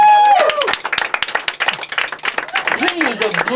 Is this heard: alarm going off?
no